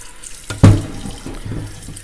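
Tap water pours into a cooking pot holding cleaned chicken pieces, a steady close splashing stream that starts abruptly and runs on without any talking.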